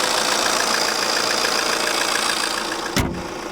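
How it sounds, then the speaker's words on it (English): Car engine idling steadily with a smooth, even mid-pitched hum and faint rhythmic pulsing, heard close and continuous, broken by a short thump near the end; no voices. "it's a very good engine. It's very solid, very smooth and quiet, and it has plenty of pulling power"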